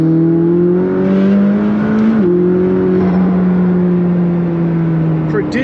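The turbocharged engine of a McLaren 600LT Coupe pulls hard under loud, close acceleration, a rising engine note that briefly dips at a gear change and then keeps climbing.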